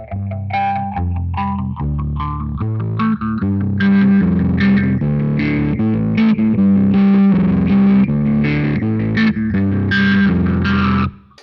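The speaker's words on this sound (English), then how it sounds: "you get that nice rising kind of phasery sound that comes in and out and like kind of mutilates the sound" An electric guitar played through a distortion and phaser pedal chain carries a chord-and-riff line for about eleven seconds. A swirling, rising-and-falling sweep runs through the tone, which is loud and up front, with no talking.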